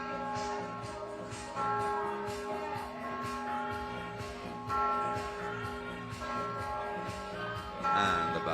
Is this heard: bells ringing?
yes